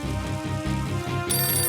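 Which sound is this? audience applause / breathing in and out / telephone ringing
telephone ringing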